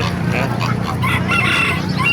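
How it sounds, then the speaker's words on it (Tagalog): Chickens and a rooster at an outdoor animal market in Calumpit, Bulacan, loud and close, with overlapping crowing and clucking filling the whole moment. "Ganda manok dito."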